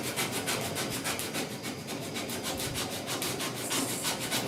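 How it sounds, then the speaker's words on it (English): Primer surfacer on the dash of a 1966 Ford F100 is block sanded by hand, a close, steady rasping scrub in fast back-and-forth strokes with no talk. "I got to sand like this."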